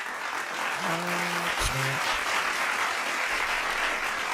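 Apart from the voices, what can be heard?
applause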